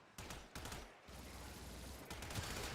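Enemy machine gun fire in Warframe bursts out in rapid, dense volleys that run almost continuously with short breaks, sounding harsh and close but mixed at a low overall level.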